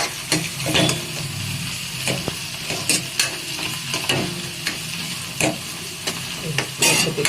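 Hand-pounded ginger garlic paste fries in a pan for junumula curry, crackling and sizzling under repeated sharp scrapes and clinks of stirring spread across the whole stretch.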